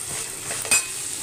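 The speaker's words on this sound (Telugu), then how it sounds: "మళ్ళీ ఇప్పుడైతే మనం కరివేపాకు కూడా వేసుకుందాం. కొంచెం తిప్పుకుందామండి." Curry leaves sizzle in a frying pan for a potato and chana dal curry as they are stirred, a steady close hiss with a brief louder crackle midway, no voices.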